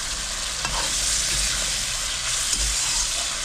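Tilapia pieces in poppy seed paste are stirred in a hot pan with oil, giving a loud, continuous sizzle and a few soft scraping touches, all close by with no voices.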